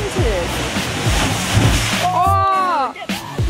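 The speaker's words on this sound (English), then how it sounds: "we found the blowhole" Waves surge and churn at a sea blowhole near Wollongong, a broad rushing wash of water close by, with excited voices talking and exclaiming over it.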